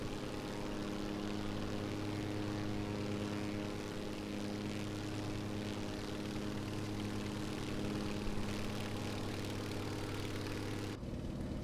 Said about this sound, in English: This is a really cool bi-wing transport plane.